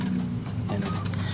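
Pet breeder pigeons coo in a low, soft, rounded murmur, close by and steady through the brief moment, with no voices over it.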